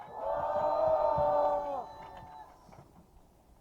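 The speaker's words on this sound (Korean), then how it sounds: "힘찬 환호 부탁드리겠습니다" A crowd of union members at an outdoor press conference lets out a loud, sustained group shout, a held chorus of voices that cuts off after about two seconds, followed by quieter murmuring.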